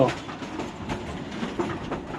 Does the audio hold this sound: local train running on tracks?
yes